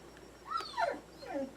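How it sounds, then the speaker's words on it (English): A little dog whimpers and yips outdoors in three short rising-and-falling whines, fairly close and clear, with no talking over them. "Of course, my little dog wants in."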